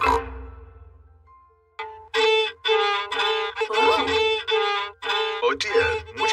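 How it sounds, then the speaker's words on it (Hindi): A cartoon beginner saws badly at a violin in a Peppa Pig episode, producing a string of loud, scratchy, wavering notes in uneven bursts after a brief fading tone. "वायलिन बजाना बहुत मुश्किल है।"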